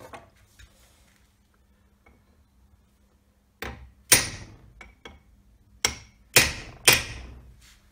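After quiet, a hammer strikes a chisel staking a nut on an Ashcroft ATB transfer box centre diff, with hard metallic clanks, two blows, a pause, then a faster cluster of louder hits.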